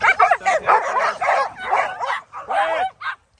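Dogs bark and yip in short bursts at a farm, several loud close barks in quick succession with a brief whimpering tone near the end.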